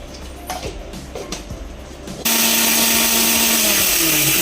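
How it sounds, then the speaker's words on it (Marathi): An electric mixer grinder coarsely grinds coriander seeds, fennel seeds and cumin, starting after a couple of seconds of handling clatter and then running as a loud, steady, close whirring roar. "धने, बडीशोप आणि जिरे, मी मिक्सरला फिरून घेते."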